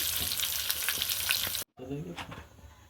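Pointed gourd (potol) frying in hot oil makes a loud, busy sizzle with stirring clinks for about 1.6 seconds, then a brief silent cut before a quieter crackle with faint voice-like tones returns.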